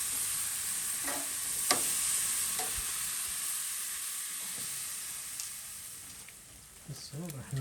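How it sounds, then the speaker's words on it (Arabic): Tandoori chicken sizzles and hisses steadily on a grill, with a few clinks and handling sounds and a brief stretch of talk near the end. "هسه راح ننزل الدجاج، نخليه على الشواية."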